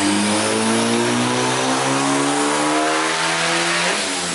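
A turbocharged SOHC engine pulls hard on a tuning run, fed by a maxed-out Walbro 450 fuel pump. It sounds like a loud, close, continuous rev with a steadily rising pitch, and there is no talking.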